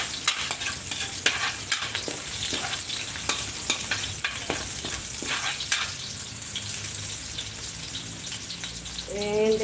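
Garlic and onion sizzle in a hot pan, with a steady crackling fry broken by repeated scraping strokes as they are stirred, close and fairly loud.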